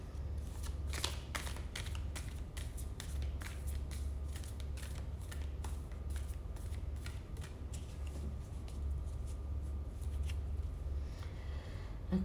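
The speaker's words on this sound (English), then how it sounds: "let's just shuffle once more and clear once more" A deck of cards is shuffled near the mic, a run of rapid papery riffles and flicks in quick bursts, fairly quiet and with no talking.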